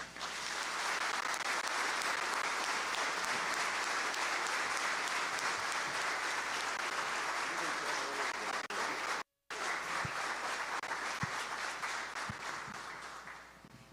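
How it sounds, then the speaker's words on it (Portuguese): Sustained applause from a large church congregation at an Easter service, steady and dense for most of the stretch, with a brief break near the end before the clapping resumes. "Pedimos à igreja reunida mais uma vez aplausos à santa palavra de"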